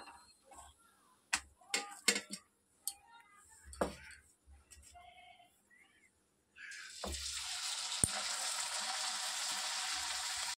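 Luchi fries in hot oil; a few scattered knocks and clatters give way to a loud, dense, continuous sizzle that fills the second half.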